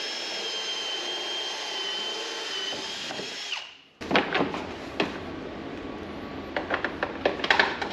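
Drill boring a 3/4 inch hole on a 2022 CF Moto UForce 1000, a steady high whine that winds down around the midpoint, then sharp clicks, knocks and rattles of handling close by.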